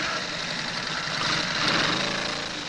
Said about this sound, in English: Square is getting our marvelous motorcycle ready